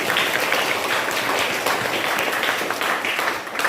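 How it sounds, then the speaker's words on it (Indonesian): Audience applause at an education office gathering honoring schools, steady dense clapping from a large crowd throughout. "Sekali lagi tepuk tangan yang kuras."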